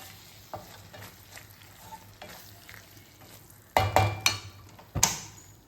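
Paneer bhurji with kasuri methi stirred in a pan, a soft low sizzle broken by several sharp spatula scrapes and clinks near the end, close and loud.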